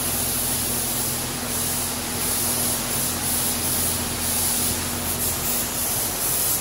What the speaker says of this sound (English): There's the steering wheel he's spraying now.